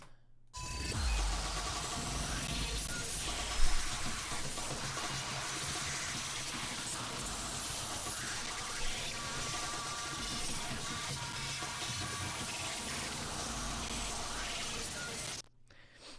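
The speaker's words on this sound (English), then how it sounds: "then I added a bunch of harsh noise on top, which sounds like this" A dense wall of harsh, hissing noise from electronic music starts abruptly, roars steadily at full loudness across the whole spectrum for about fifteen seconds, then cuts off.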